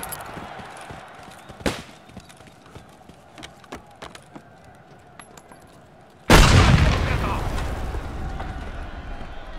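A grenade blast in the shooter Escape From Tarkov Arena, a sudden loud explosion near the end with a long rumbling decay, after a stretch of footsteps, scattered gunshots and voices.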